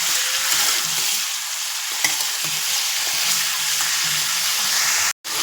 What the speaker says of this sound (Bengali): এবার এটা দিয়ে আমরা ভালো করে ভাজবো